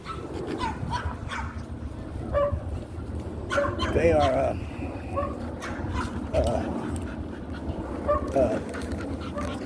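Dogs whimper and yip in thin, high whines over a steady background rumble, with quick panting breaths mixed in, fairly close.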